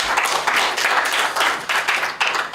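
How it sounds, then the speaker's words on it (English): Applause from an audience at a launch event on countering terrorism through youth talent, loud and close, a dense clapping crowd with rhythmic surges, no voices. "Let's give a big round of applause once more"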